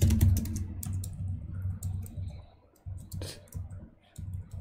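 Rapid clicking keystrokes on a computer keyboard come in uneven bursts with short pauses, close and moderately loud, with no talking.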